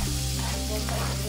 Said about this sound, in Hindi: तो ऑनियन अभी पूरा फ्राई हो चुका है